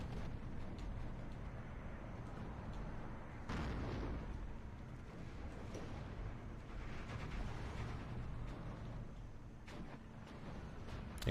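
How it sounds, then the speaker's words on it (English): Mortar rounds and explosions rumble continuously in a Steel Division 2 battle as they fall on an IS-2 tank, with heavier booming bursts near the 3.5 and 7 second marks and no talk. "Mortars once again firing on the IS-2."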